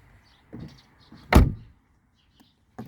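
One heavy Mercedes E-Class W211 door slams shut nearby with a deep, muffled thunk, preceded by a lighter click and followed by a faint tap.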